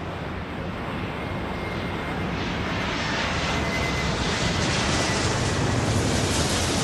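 A jet airliner roars down the runway on takeoff in Airport Madness 4, a loud, steady broadband engine rush that swells slightly over several seconds, with no voices.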